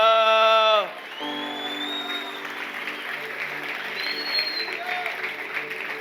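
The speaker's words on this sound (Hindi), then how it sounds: "हम बेहतर तालियां बजा सकते हैं यीशु मसीह के लिए" A church congregation claps in praise of Jesus Christ during a sermon, a soft, even patter of hands that follows a brief sung or sustained voice at the start, with faint voices and whoops mixed in.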